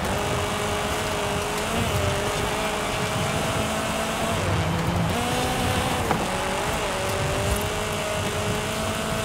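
A race car in the Forza Horizon 5 video game, its engine droning steadily with shifting tonal whine and pitch dips as it accelerates and shifts, loud and continuous with no talk.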